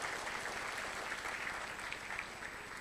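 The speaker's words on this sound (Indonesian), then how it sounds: "Boleh tepuk tangan dong buat produk Atomi." Audience applause for a product testimonial about Atomy psyllium husk, a steady wash of many hands clapping at moderate distance for about three seconds, with no voices over it.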